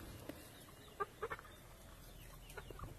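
Chickens on a small village farm give a few soft, brief clucks spaced over a quiet, faintly noisy background, with no talking.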